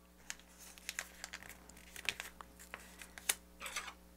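A sheet of paper is folded along a diagonal crease while making origami claws, giving faint, close crinkling and rustling in irregular bursts against a quiet background.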